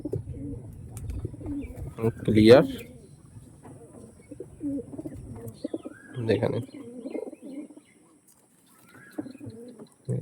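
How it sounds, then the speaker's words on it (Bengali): Soft, low cooing of Ice pigeons close by, a few throaty bursts with brief chirps, while someone speaks in between. "সুন্দর আইস কোয়ালিটির পায়রা"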